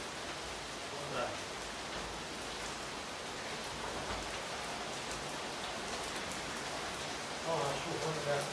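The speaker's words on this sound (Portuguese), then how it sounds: "Ó, a chuva dessa em cima do carro." Rain falls on top of a car, a steady hiss of drops on the roof that continues throughout, with low voices faintly underneath.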